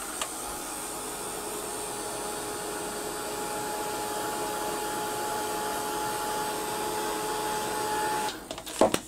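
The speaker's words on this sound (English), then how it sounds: "I want to give this a quick blast with the heat gun and get it dried" Heat gun blowing a steady, loud whirring stream of hot air to dry Distress Oxide ink pressed through a stencil onto Indigo Blues watercolour card, running continuously without a break before cutting off with a few clunks at the end.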